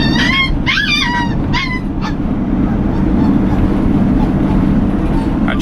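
Rescued dogs packed in a van whimper and yip in high, wavering cries over the steady rumble of the moving vehicle, with several overlapping calls early that fade into the continuous road noise.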